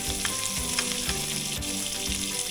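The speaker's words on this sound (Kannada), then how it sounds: "ತುಪ್ಪ ಬಿಸಿ ಆಗ್ತಿದ್ದ ಹಾಗೆ ಜೀರಿಗೆ, ಅದಾದಮೇಲೆ ಸ್ವಲ್ಪ ಇಂಗು, ಅದಾದಮೇಲೆ ಕರಿಬೇವು" Cumin seeds, asafoetida and curry leaves sizzle and crackle in hot ghee in a pot for kichidi, a dense, continuous close-up frying hiss with small pops and faint stirring.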